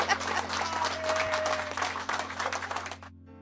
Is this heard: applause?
yes